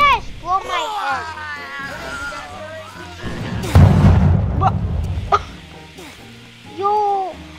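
In a Roblox death sandbox game, a loud booming explosion bursts out in the middle, with a lingering rumble and further pops, while a person talks and exclaims around it.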